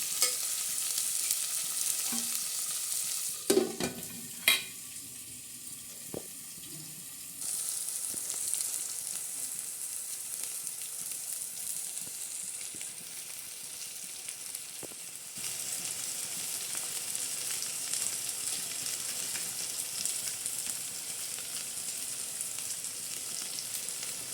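Usal curry sizzles and fries in a pan, a constant close hiss broken early by a few clattering stirs of a spoon against the metal, then settling into a steady frying sizzle.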